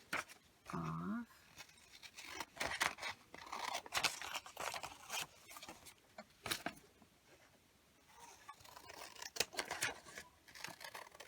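Scissors snip and crunch through paper and card while an ephemera craft piece is trimmed, a run of close, uneven cuts and rustles, with a soft voice talking in between.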